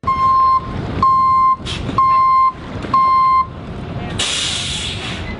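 A tow truck backing up at a river boat ramp sounds four loud, evenly spaced reversing beeps close by. A burst of hissing air and engine noise follows, with faint voices in the background.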